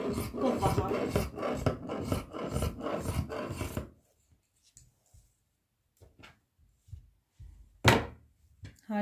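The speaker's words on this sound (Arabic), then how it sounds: "هنا راح نقص 42 سنتيم ونطلعها" Fabric is cut for a dishdasha, with about four seconds of rhythmic rasping strokes. Near silence follows, broken by a few soft taps and one short, sharp rasp near the end.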